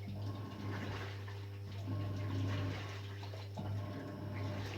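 A Samsung 6.2kg fully automatic diamond drum washing machine drains dirty water, a steady gurgling, rushing flow over a constant low machine hum, close and continuous.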